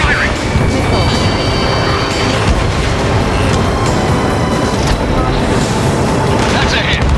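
Enemy fire and explosions from an air battle over an enemy ship in Ace Combat 7 rumble loud and dense throughout, with heavy booms and gunfire mixed with radio voices talking over them.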